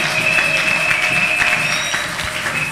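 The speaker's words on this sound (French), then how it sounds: "Est-ce qu'on peut acclamer la parole?" A church congregation applauds and cheers during a sermon, steady dense clapping from many hands throughout, with faint cheers and a sustained tone running underneath.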